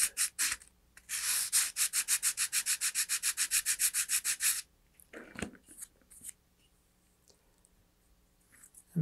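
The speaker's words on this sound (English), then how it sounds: "So you want to keep it at a slight angle like that as you're sanding." Sanding a model rocket fin held at an angle, a rapid rhythmic run of about twenty close, rasping strokes, then quieter scrapes and a soft knock.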